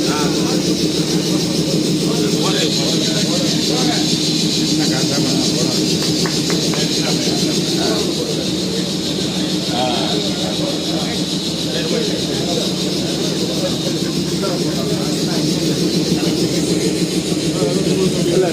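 A loud, continuous rumble of a DEMU passenger train rolling along the rails on the Vedaranyam–Thiruvarur line, a steady droning roar with faint rhythmic clatter throughout.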